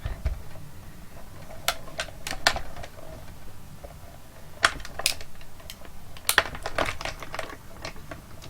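A die-cutting machine rolls staggered stacked cutting plates through in one pass, giving a run of sharp, close clicks and ticks in irregular bursts over a quiet background.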